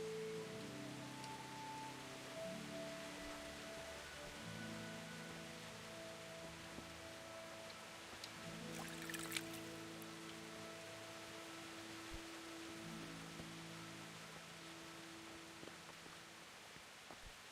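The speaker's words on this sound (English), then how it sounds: "Oh, some lovely rain." Steady rain falls throughout the medieval world of the video game Kingdom Come: Deliverance, a soft continuous hiss under a background of sustained low musical tones, with one brief louder patter near the middle.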